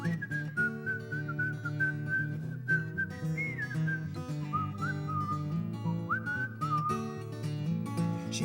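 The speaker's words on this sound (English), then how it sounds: "She had me whistling." A person whistles a melody over a musical backing, clear sustained notes sliding between pitches at steady volume, with no speech.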